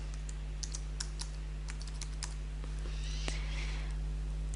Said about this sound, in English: I type Perdrix next to the genus entry field